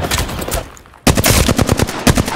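Octane gameplay in Apex Legends: dense rapid-fire gunshots, a loud burst cut by a brief near-silence, then a steady stream of evenly spaced shots, close and intense.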